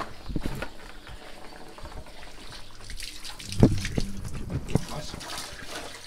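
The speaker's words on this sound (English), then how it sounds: "the water comes out of this pipe here" Water runs from a pipe at a Spanish farmhouse under renovation, a steady trickling flow with a few louder splashes, and voices can be heard in the background.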